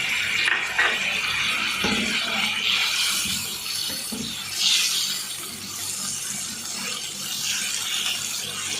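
Water heats toward a boil in a pot for kofta curry, giving a continuous close bubbling and hissing with soft scraping and clinks of a stirring spoon, alone without speech.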